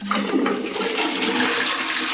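An open-style toilet in a cheap hotel room flushes nearby, a rushing, gurgling swirl of water that runs steadily for the whole moment, with no voices over it.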